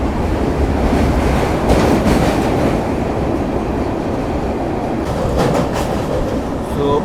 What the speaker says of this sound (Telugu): ఆ ఆర్చ్ బ్రిడ్జ్ మీద చూడండి ట్రైన్ పోతుంది